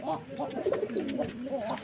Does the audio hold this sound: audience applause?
no